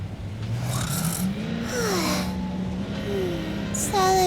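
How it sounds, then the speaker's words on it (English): Puff, a character in the video game Neverness to Everness, snores heavily from a car's passenger seat: drawn-out rasping, snorting breaths repeating close and loud over a steady engine hum, with a squeaky cartoonish voice surfacing at the end. "Heavy snoring from the passenger seat."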